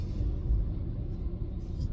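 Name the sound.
truck engine rumbling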